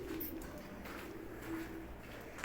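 Pigeons cooing softly in a coop, a low faint murmur of calls over quiet background hum, no talking.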